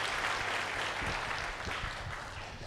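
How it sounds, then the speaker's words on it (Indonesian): A church congregation claps for the pastor in a steady, moderately loud wash of applause that carries on without a break, with no talking over it. "tepuk tangan boleh buat Bapak Gembala saudara-saudara semua"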